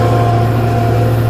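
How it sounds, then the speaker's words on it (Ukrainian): Farmer 10260 tractor engine running in a Ukrainian village, a loud steady low hum with an even drone throughout, alone. "трактор"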